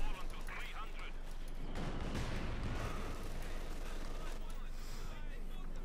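Bursts of MG42 machine gun fire crackle in Company of Heroes 2 amid dense battle noise, with a heavier blast near the middle, all fairly quiet and muddied under ongoing game sounds.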